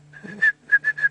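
A person whistles an imitation of a bird's call heard on a safari drive, a few clear, steady whistled notes in a short rhythmic series: one sustained note, then three quick repeated ones.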